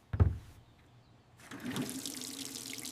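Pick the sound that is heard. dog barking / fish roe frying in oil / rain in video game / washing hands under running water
washing hands under running water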